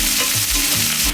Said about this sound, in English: It's frying. You could hear the sizzle and the giggle.